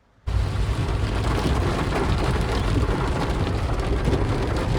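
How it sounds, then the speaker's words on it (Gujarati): Heavy rain pours steadily in Mendarda, Gujarat, a loud, dense, continuous roar close by, with low rumbling beneath it and no voices. "તમે જોજો આજે કેટલો વરસાદ પડ્યો નહીં"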